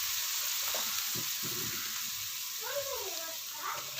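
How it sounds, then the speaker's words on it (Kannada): Chicken frying in butter for pepper chilli chicken gives a steady, even hiss throughout. A few faint clinks of a utensil sound under it, with no talk. "ಬೆಣ್ಣೆ ಹಾಕಿ ಫ್ರೈ ಮಾಡಿ"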